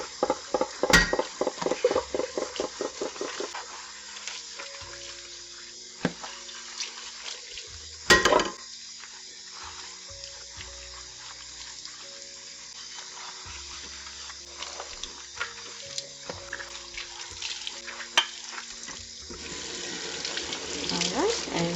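Pans being washed with soap under a running tap, with water splashing and scrubbing, intermittent clinks and knocks of the cookware, and a louder burst of rinsing near the end.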